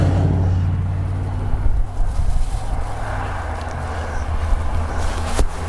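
Busy road traffic rolls past outdoors at rush hour, a continuous engine and tyre rumble that swells and eases as vehicles go by, with a sharp click near the end.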